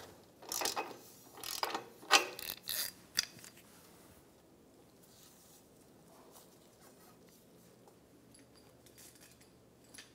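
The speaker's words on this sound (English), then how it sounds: "Using a 22 millimeter socket, I'm going to remove the O2 sensor." Ratchet turning a 22 mm socket to remove a downstream O2 sensor on a 2013-2017 Honda Accord, heard as a few quick bursts of clicking in the first three seconds, followed by faint handling noise and quiet.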